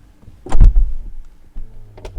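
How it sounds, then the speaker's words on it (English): A soft-closing door on a 2022 Brabus 900 GLE Coupe pulls itself shut with a brief electric whir and a muffled thud, then a faint motor hum follows, heard close up and alone. "Let me close the door."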